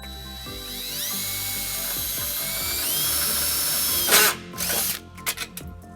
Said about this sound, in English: we'll tighten it up using a 3/8 socket